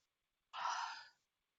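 One soft, breathy yawn stands alone in near silence, rising quickly and fading over about half a second.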